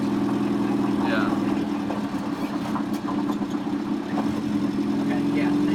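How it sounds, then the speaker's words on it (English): A 1964 Volvo Amazon 122 estate, a barn find, slows and downshifts with a steady low engine drone and mild engine braking, heard from inside the car, with some talk. "I'm going to slow down and downshift"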